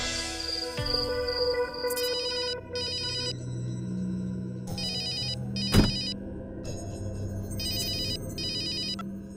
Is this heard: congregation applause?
no